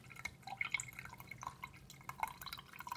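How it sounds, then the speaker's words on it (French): Water drips and trickles from a small aquarium pump, a soft irregular patter of droplets with faint splashy clicks, fairly quiet and close, with no voices. "On va voir déjà si la pompe fonctionne."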